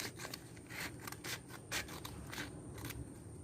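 Scissors cut paper for a homemade illusion toy in a steady run of quick, crisp snips, close and fairly quiet, with no one speaking.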